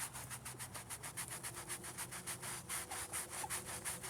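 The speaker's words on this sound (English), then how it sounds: "you might need a little bit of brushing and scraping" A tombstone is brushed and scraped during cleaning, giving a steady rhythmic back-and-forth rasp with about a dozen even strokes, close and moderately quiet with no talk.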